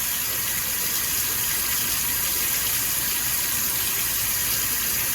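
Tap water runs steadily into a sink during handwashing, a constant close gushing hiss with no pauses and no voices.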